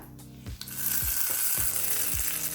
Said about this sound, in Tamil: இப்போ சட்னியை கடுகு உளுந்து கருவேப்பிலை போட்டு தாளிச்சிடலாம்